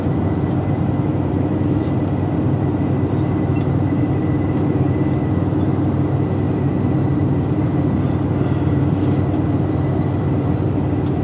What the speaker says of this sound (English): a train in the mountains